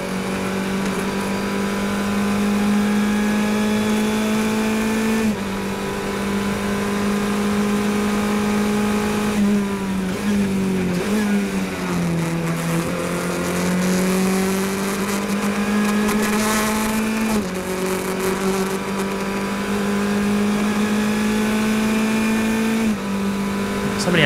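A race car engine at the Pittsburgh Fire & Ice Majors race drones steadily from the cockpit, dipping and straining as the car works through a hairpin before climbing back to a constant, loud hum.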